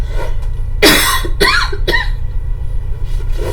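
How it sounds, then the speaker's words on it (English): Three sharp, loud coughs in quick succession close to the microphone, followed by a quieter throat sound. "I've got a cough"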